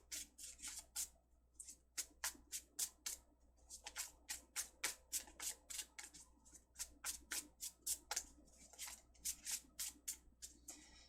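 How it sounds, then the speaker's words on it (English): Tarot cards being shuffled by hand, a rapid series of crisp riffling bursts in quick rhythmic succession, close and alone with no talk. "Let me do another shuffle here."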